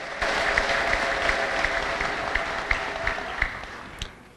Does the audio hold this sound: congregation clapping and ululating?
yes